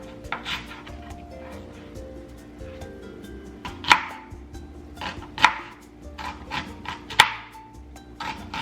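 A knife chops onion and jalapeno on a cutting board while tacos are prepared, giving light, irregular taps with three sharper, louder strikes spaced a second or so apart.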